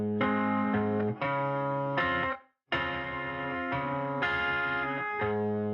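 Distorted tonal music phrases play loudly with a brief gap, each chord trailing into a broad, roomy reverberant wash from reverb set to a larger room size.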